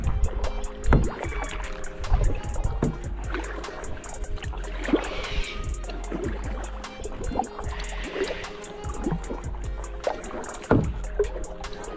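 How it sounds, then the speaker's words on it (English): Kayak paddle strokes splash and drip in a steady rhythm across the Murray River, with water trickling off the blades and faint lapping against the hull, close and continuous. "We're literally kayaking across states."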